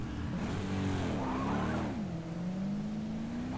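GTE race car at Watkins Glen spinning in a sim racing game, tires squealing in a long wavering skid over a steady engine drone, loud and close.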